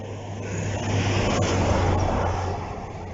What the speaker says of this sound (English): It's a nice little removal truck.